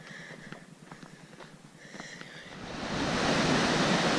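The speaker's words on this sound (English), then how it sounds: "these creeks in the Collegiate Peaks wilderness are no joke. They're raging rivers" Raging mountain creek in the Collegiate Peaks Wilderness, swelling from softer rhythmic sounds into a loud, steady roar of rushing water close by, with no talk.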